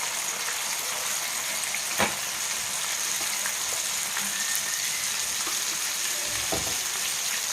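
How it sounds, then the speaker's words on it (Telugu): Drumstick (moringa) pieces fry in hot oil for drumstick biryani, giving a steady, loud sizzle throughout with a couple of brief stirring knocks. "ఈ కాయలు ఫ్రై అవ్వాలన్నమాట"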